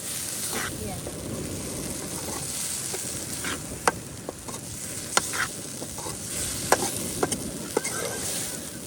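Leafy greens, a spicy vaseti bhaji cooked Kathiyawadi style, sizzle steadily in a hot pan while being stirred, with a continuous frying hiss broken by sharp clinks of a spoon against the pan and voices talking over it.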